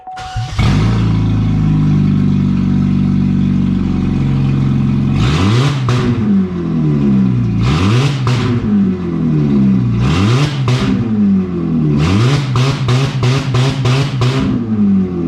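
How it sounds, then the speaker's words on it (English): A car engine, lifted out of the vehicle and sitting on the ground with no exhaust fitted, cranks and starts, settles into a loud, raw idle, then is revved hard in repeated sharp bursts, each climbing and falling back, with no talk. "I'm gonna do a nice start up without the exhaust and whatnot"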